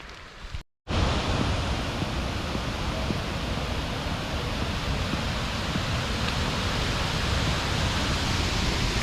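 A waterfall in the Limón Indanza area of eastern Ecuador, heard from a trail leading down to it: a loud, steady broadband rush of falling water filling the scene after a brief dropout at the start.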